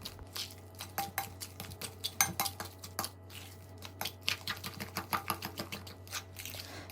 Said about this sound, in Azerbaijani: bunları hamısını tam krem halına gələnə qədər qaşıqla və ya çəngəllə qarışdırırıq